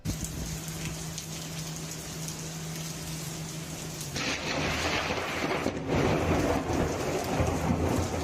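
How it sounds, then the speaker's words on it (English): Steady rain on surfaces with a low rumble of thunder, then a sudden louder surge around the midpoint as a lightning strike hits during a city storm that knocks out power; heavy rain noise continues close and loud with no talking. "One of my subscribers recorded this video showing the instant a lightning strike knocked out the power in a city."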